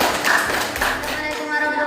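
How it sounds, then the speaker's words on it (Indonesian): Students clapping for group 2 in a classroom, a brief burst of hand claps from a small group. "beri tepuk tangan dulu untuk kelompok 2"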